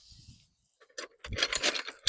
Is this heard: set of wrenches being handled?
yes